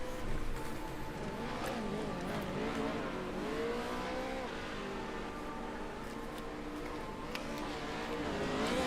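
A Pro Lite race truck, the Gravedigger number 70, runs a fast lap at Crandon International Raceway, its engine droning steadily with shifting pitch throughout, loud and close, with no talk.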